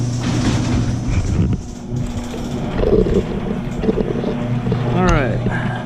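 Apollo RFZ X15 125cc pit bike engine running close by with a steady low drone, riding out against wind buffeting on the microphone and a rising rev near the end.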